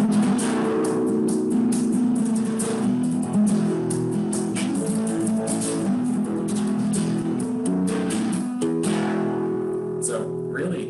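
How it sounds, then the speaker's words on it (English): Lively flamenco guitar in a bright alegrías style, with fast strummed chords and quick plucked runs, played close and steady with no voices. "And if I play that one, it sounds like this."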